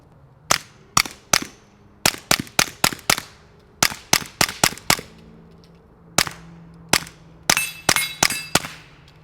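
A Smith & Wesson .22 pistol firing Federal ammunition, a series of about twenty sharp, loud cracks in quick irregular bursts, each with a short ringing tail, separated by brief pauses.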